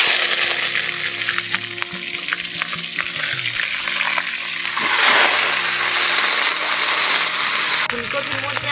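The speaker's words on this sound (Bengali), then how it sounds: "আর আমি এদিকে ফুলকপিটা ভেজে নেব।" Cauliflower frying in a pan for festival khichuri, a loud, dense sizzle that swells and hisses throughout, with stirring clatter in the first half and possible faint voices beneath.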